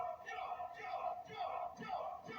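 Wrestling crowd at a tag-team deathmatch cheers and yells in sustained waves, a distant, moderately faint roar of many voices from the arena.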